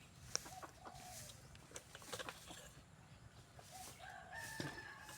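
Chickens cluck and a rooster crows faintly in the distance over quiet outdoor ambience, with no one speaking.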